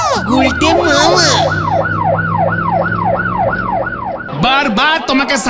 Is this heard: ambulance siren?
yes